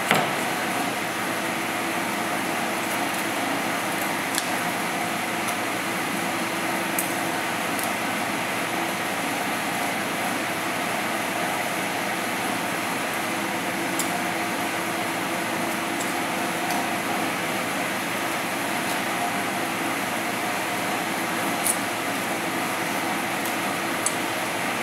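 An experimental DC motor with five magnets and large coils running steadily, a continuous broadband whirring hum with faint periodic ticks, constant in level throughout.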